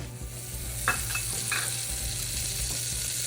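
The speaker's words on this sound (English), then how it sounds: "prepare your sauce in a pot by melting your butter" Butter melting in a pot for a fettuccine Alfredo sauce gives a steady, close sizzling hiss, with a few soft stirring scrapes along the way.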